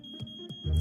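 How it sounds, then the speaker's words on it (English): A smoke alarm goes off in an animated home kitchen while meatloaf cooks, a thin steady high tone under a few soft low thumps and a heavier rumble near the end. "Oh, the smoke alarm."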